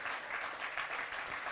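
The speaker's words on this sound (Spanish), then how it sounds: "Dele un fuerte aplauso a nuestro Señor" A church congregation claps steadily in dense, even applause, moderately loud and without any voices over it.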